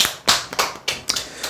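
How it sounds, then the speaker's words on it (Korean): A small group claps briefly in a call-center training session: several loose, uneven bursts of hand claps, close and moderately loud, fading after about a second and a half. "박수."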